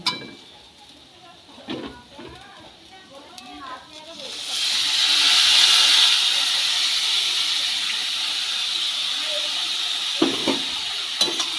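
Water poured onto hot semolina in a pan, bursting into a loud, steady steaming hiss partway through after a short stretch of speech, with clinks of the pan near the end.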